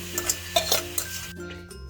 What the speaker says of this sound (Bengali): এই যে দেখুন ভিজিয়ে রাখা আমগুলোকে দিয়ে দিচ্ছি কড়ার মধ্যে।